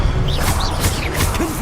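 Expelliarmus disarming spell cast in the Hogwarts Legacy video game, a dense burst of magical crackle with whooshing sweeps and a short crash, loud and continuous for under two seconds.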